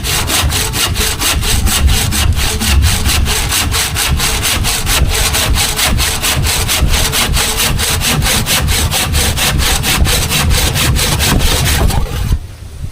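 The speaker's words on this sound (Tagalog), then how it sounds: "yan ang lagari" A hand saw cuts through wood in steady back-and-forth strokes, a loud, close rasping rhythm that continues without pause for most of the stretch and stops abruptly near the end.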